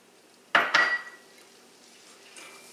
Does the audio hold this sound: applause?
no